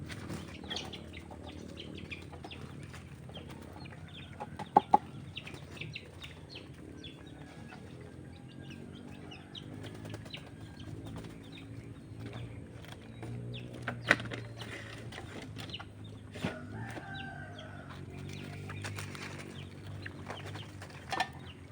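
Young chicks peep and chirp steadily over a long stretch, with some clucking and brief wing flaps from chickens nearby in a farmyard setting, recorded at moderate distance with no talking.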